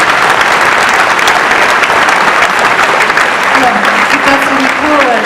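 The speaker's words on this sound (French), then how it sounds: "On peut les applaudir." A French television studio audience breaks into sustained, loud applause at an award show. The clapping is dense and continuous for the whole stretch, with a few faint voices and cheers mixed in.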